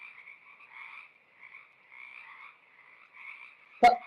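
Frogs croak in a steady, repeating chorus of rough pulses, with a sudden sharp knock near the end.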